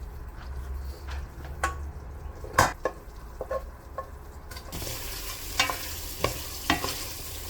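Seared beef being stirred into sauce in a pan for beef and broccoli, with a steady low sizzle and several sharp scrapes and clinks of a utensil against the pan, close up and with no talking.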